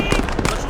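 Mortar rounds firing in a war video game make a quick run of overlapping loud, close bangs and crackles in under a second.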